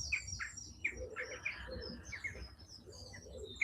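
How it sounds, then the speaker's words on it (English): Birds chirp and tweet softly at a distance in the morning, repeated short calls scattered over a low cooing and a faint outdoor hum. "The birds are active here."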